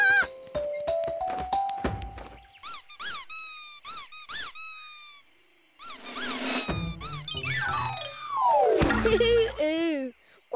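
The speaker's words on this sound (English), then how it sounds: "Why is your doorbell making that funny noise?" A cartoon doorbell that should honk gives a run of high, bright squeaks instead, repeated in quick bursts with squawks and voices between them.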